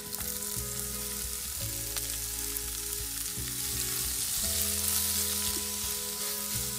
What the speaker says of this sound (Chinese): 翻炒后和豆腐干一起炒。